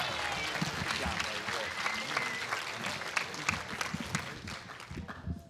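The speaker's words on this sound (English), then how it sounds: "you can give him another round of applause" An audience applauds a soloist from a high school jazz band at a jazz fest concert. The clapping is dense and sustained, with crowd noise underneath, and it begins to thin out near the end.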